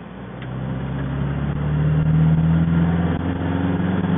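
MGB GT sports car pulling along a country lane as the engine note builds steadily and then settles into overdrive, a steady mid-pitched drone heard from inside the car.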